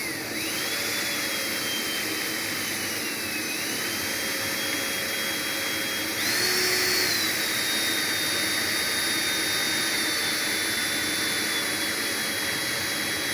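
A tape rewinding machine runs steadily, a continuous mechanical whir with a whining tone that shifts pitch partway through as the tension sensor cuts the drive, fairly close, with no talking.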